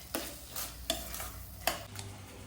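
Sliced onion and capsicum frying in a pan for a paneer curry, a soft steady sizzle with a few sharp scrapes of a spoon stirring through it, close by and fairly quiet.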